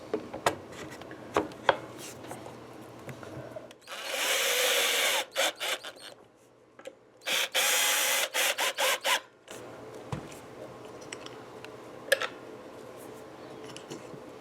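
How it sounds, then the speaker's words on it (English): A small piece of sandpaper rubs against a guitar part, heard as two bursts of rasping, scratchy strokes, a longer one followed by several quick repeated strokes, close up amid quieter handling noises. "So I'm just going to use a little piece of sandpaper."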